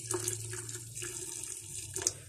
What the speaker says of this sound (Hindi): तो इतना ही पानी जाएगा, देखो इतना पानी।